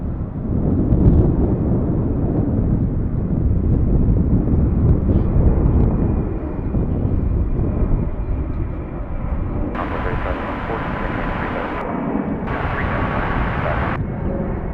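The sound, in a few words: Airbus A380 aircraft taxiing out at DFW airport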